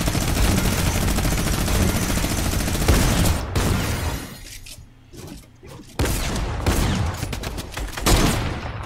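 Dense rapid gunfire and explosions in an online battle royale shooter match, loud sustained bursts that briefly thin out midway before resuming, no voices over it.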